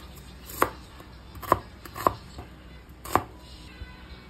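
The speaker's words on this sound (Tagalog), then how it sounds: "Hiwa muna ng kamatis, sibuyas" A kitchen knife cutting tomato and onion on a board, four or five sharp, close chopping knocks spaced irregularly.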